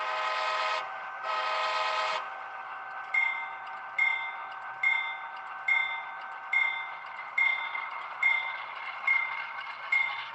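A CSX C39-8 model locomotive's sound system gives two long horn blasts, then a steady engine drone with a bell ringing in an even, repeating rhythm, clear and close.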